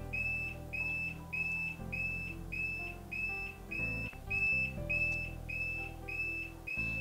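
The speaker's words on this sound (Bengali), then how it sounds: "অ্যালার্ম বাজতেছে" An alarm in a PLC training demonstration beeps in a steady, repeating pattern of high-pitched tones, about a dozen pulses, over a low electrical hum.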